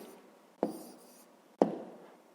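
A pen writing an answer by hand on paper, two brief scratchy strokes standing out against a faint background of soft scribbling, close and quiet.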